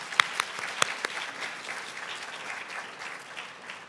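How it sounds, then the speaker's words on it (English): An audience at a graduation ceremony applauds the keynote speaker, a few sharp claps at first and then a steady, moderately loud spread of clapping that continues evenly without voices. "Can we get another round of applause?"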